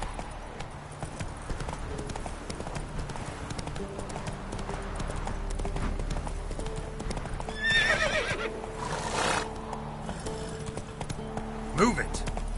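A horse gallops and whinnies in The Witcher 3 with a steady clip-clop of hooves throughout. A neigh rises midway, and someone talks over the game sounds.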